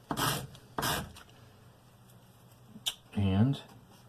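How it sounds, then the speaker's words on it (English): Sandpaper rubbed against a wooden back brace: two short, close rasping strokes in quick succession, then a quiet gap and a brief scuff followed by a faint squeak. "I'll just take just a touch off of this sandpaper"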